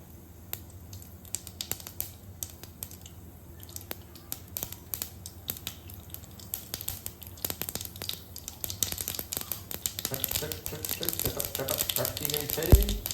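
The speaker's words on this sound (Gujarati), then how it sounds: "મિત્રો રાઈ ચટકી ગઈ છે." About a spoonful of mustard seeds crackles in hot oil in a pan, a dense rapid patter of sharp pops that grows louder and busier toward the end, close up, with a voice talking over it.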